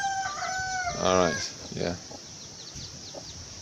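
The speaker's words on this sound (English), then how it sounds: "some of our chickens, can you see it there?" Free-ranging backyard chickens cluck and a rooster crows nearby in the open, with a couple of short spoken words over the birds.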